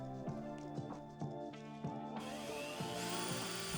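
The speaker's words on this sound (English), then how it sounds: "Then I drill some more holes to attach the thing that the phone sits on." A power drill runs close by with a rhythmic knocking, then bites into wood with a louder, rougher grinding burst.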